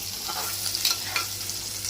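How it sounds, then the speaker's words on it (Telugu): Spices for a tempering sizzle steadily in hot oil in a pan while biryani is being cooked, a close, even crackle with a few brief pops. "ఇప్పుడు తాలింపు పెట్టండి"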